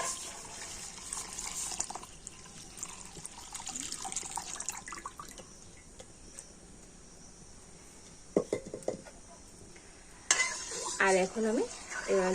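Cow's milk, about one and a half litres, heats in a kadai with a soft, quiet simmer, then a few louder bursts of stirring and scraping near the end.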